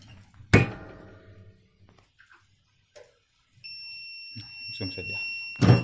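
A heat press running at 160 degrees with a 20-second timer gives a steady high electronic beep held for about two seconds, followed by a loud thump at the end, with quieter knocks and handling noise beforehand.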